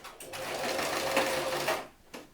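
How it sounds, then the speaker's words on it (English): A sewing machine runs in one brief continuous burst as it stitches a piece of fabric, whirring steadily at close range and then stopping, with no talk. "watching somebody sewing a piece of fabric is not spectator sport"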